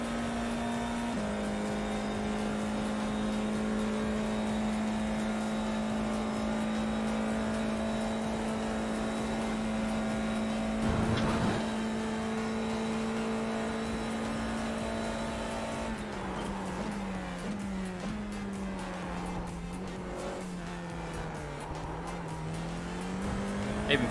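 F4 race car engine in the iRacing VR sim, a steady droning tone held through a corner, then shifting and rising as the car accelerates, with brief tyre noise and no talk.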